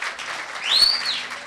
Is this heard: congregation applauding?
yes